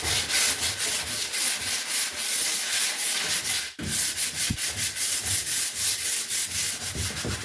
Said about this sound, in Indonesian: Amplas yang saya gunakan di sini pakai nomor 400 yang sama saat tadi pertama kali diamplas.